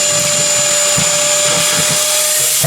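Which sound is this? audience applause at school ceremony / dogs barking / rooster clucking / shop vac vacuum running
shop vac vacuum running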